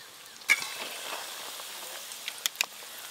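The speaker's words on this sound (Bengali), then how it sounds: "সিঙ্গারা যেমন হালকা গরম তেলে ভাজতে হয় ধীরে ধীরে, ঠিক সেরকম ভাবেই কিন্তু আমি ভাজা করছি।" Potato and semolina snacks fry slowly in medium-hot oil with a soft, quiet sizzle and a few isolated faint pops.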